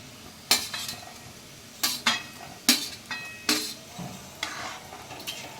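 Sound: adding chickpea lentil fritters into simmering potato curry

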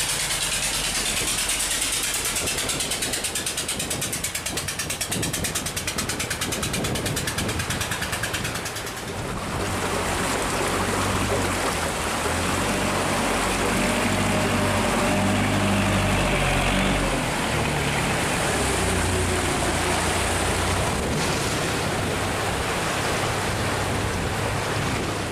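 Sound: wooden boat engine, passing downstream through a sluice gate

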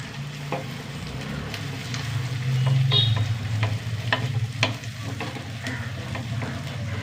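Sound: onion, ginger and green chili sautéing in a pan

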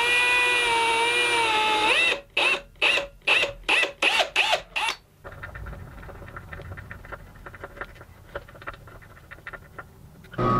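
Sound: drilling into wood

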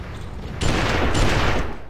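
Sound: gunshots in the video game GUN

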